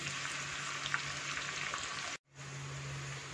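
Sliced onions fry steadily in hot oil until browned for chicken biryani, a continuous close sizzle with a brief cut to silence near the end.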